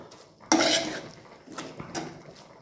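A metal plate set as a lid on a cooking pan of radish greens, heard as a sharp close clatter of metal on metal, followed by a few lighter clinks and rattles, with no talking.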